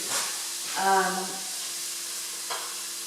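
Chopped onion sits in oil that is slightly too hot, giving a soft hissing sizzle with a short tonal squeak from the pan and a brief clatter of stirring.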